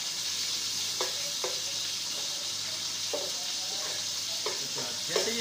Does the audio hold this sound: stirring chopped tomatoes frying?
yes